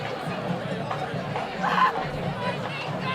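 A high school varsity football crowd cheers and chatters in the stands, a dense continuous roar of voices with a brief swell midway, heard from nearby.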